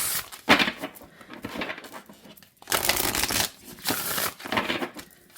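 Papery riffling and slapping of a tarot deck being shuffled, in several bursts with short pauses between, close and fairly loud.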